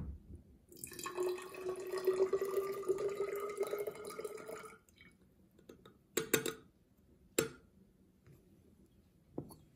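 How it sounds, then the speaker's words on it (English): Water is poured from a beaker into a graduated cylinder, a trickling, bubbling pour lasting a few seconds, followed by quiet pauses broken by a few sharp glassy clinks and drips. "I take all this water and pour it into the graduated cylinder"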